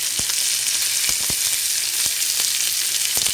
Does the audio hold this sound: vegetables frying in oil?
yes